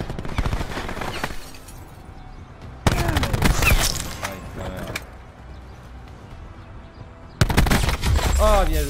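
Gunfire and weapon sounds in a Black Ops 4 team deathmatch video game, with loud bursts of automatic fire in two dense clusters separated by quieter stretches of distant shots and ambient battle noise.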